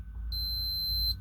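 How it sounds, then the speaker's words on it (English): A multimeter beeps on a continuity test while probing a laser's power supply, one steady high-pitched tone held for about a second over a low electrical hum. "On the negative, let's see if we have a beep."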